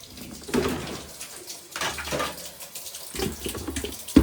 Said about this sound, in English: I'm going to run some really hot water.